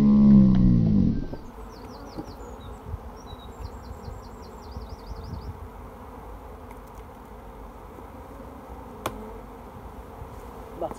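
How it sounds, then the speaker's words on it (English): Bees swarming over an open beehive with the crown board off, a faint, steady buzzing drone that goes on throughout after a louder rumbling knock at the start. "Look at all those bees."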